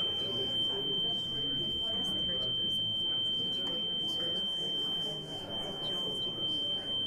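A steady high electronic sine-wave tone from an Apple iPod used as a pocket laboratory, holding a constant pitch through the whole stretch over a dense murmur of room noise.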